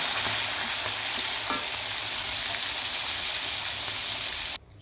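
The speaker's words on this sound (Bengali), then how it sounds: "মাছগুলো উঠিয়ে নিলাম ভাজা হয়ে গেছে" River rohu fish frying in hot oil, a steady loud sizzle with faint crackles and occasional utensil taps, cutting off abruptly near the end.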